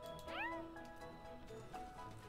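A cat meows in a game, one clear rising-falling meow early on over a soft, steady background of ambient noise and faint tones; fairly quiet overall.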